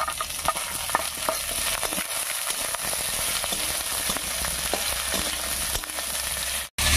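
Bitter gourd and potato pieces sizzle steadily in hot oil over black cumin and browned onion, with scattered stirring scrapes and clicks throughout before a brief drop near the end.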